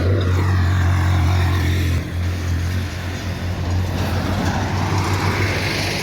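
Loud, close street traffic with engines rumbling as cars and trucks pass, a heavy low drone easing after a couple of seconds into a continuous roadway wash, with no talk.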